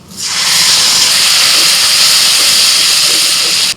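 Tomato, coriander, ginger and green chilli paste hits hot oil and sends up a sudden loud, hissing sizzle. The sizzle holds steady for a few seconds before cutting off abruptly, with no voice.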